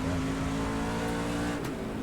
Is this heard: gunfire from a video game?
no